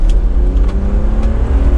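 A 2016 Mercedes-Benz G65 accelerates at half throttle with short shifts, its engine and exhaust a loud, steady, close drone with gentle rising harmonics and no talking.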